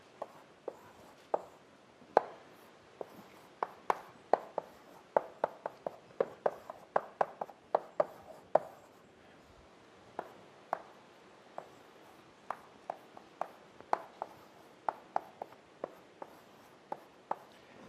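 Chalk taps and short scratchy strokes on a blackboard as a tree diagram is drawn in a lecture hall, a quiet, irregular series of crisp clicks spread over several seconds.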